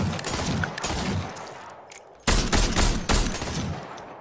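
Rapid bursts of video game gunfire shooting at bananas, loud and dense, in sustained volleys with a brief lull before another strong barrage.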